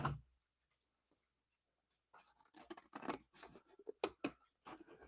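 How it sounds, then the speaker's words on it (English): Scissors snip through craft card along a fold line for a Christmas card kit, a quick run of short crisp cuts close by after a quiet pause. "I'm going to take my scissors and I'm going to cut it off again"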